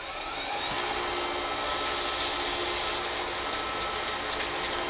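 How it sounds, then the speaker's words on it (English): Turned pen spinning on a wood lathe while being sanded with 400 grit sandpaper, a steady close hiss and rub that brightens partway through, with faint repeated scratchy pulses over a low motor drone. "Now we go to 400 grit sandpaper."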